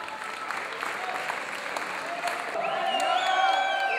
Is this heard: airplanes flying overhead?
no